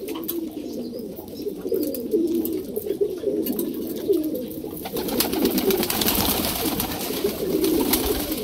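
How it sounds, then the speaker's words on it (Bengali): Pigeons coo softly and repeatedly while pecking at a bowl of coarse paddy, the low rolling calls overlapping in a continuous murmur, with a brighter rustling, shuffling texture rising in the second half. "আমার এতগুলো পায়রা আছে, হ্যাঁ, পায়রাগুলো ধানটা প্রথমে খেয়ে নিই"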